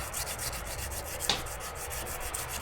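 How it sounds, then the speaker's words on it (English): Sandpaper worked by hand along the edge of a reproduction 5th-century seax blade, a steady close scratching rub repeating in quick strokes throughout, with one sharper scrape partway through and no talk. "just sand it down until the edge is on there"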